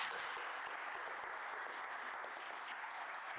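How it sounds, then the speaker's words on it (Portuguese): An audience in Cruzeiro claps for a deputy being honoured at a ceremony, a continuous, even patter of many hands that runs for several seconds without talk and sounds fairly distant and soft. "bater palmas para esse grande parceiro aqui da cidade de Cruzeiro"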